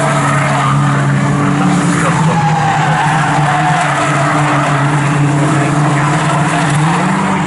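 Race cars in a Toyo Tires 7 race series at Snetterton circuit, a steady loud roar of several engines passing over a crest together, with a sustained engine drone and tyre noise throughout.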